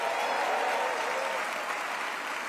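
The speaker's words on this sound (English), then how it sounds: "Let's also give a round of applause for our protector" Sustained applause from a large audience at New York's 2026 State of the State Address, honoring Attorney General Tish James; dense, steady clapping with no talk over it.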